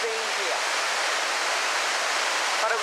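Russell Falls at Mt Field roars with a dense, steady wash of loud falling water, broad and continuous throughout, with faint voices barely cutting through the rush.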